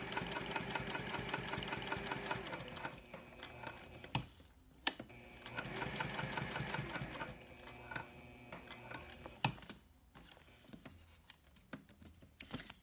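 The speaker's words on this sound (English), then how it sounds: "But you don't want to stitch too close, because otherwise the stitch could slip and then the vinyl can pop out." A sewing machine stitches vinyl onto a cork slim ID wallet, making a quiet, rapid mechanical whir. It runs in bursts with short pauses between them.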